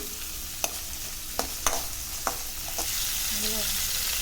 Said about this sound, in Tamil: வெங்காயம் பச்சை மிளகா கருவேப்பிலை எல்லாத்தையும் ஒன்றா போட்டுருங்க லைட்டாக வதங்க வதக்கி விடுங்க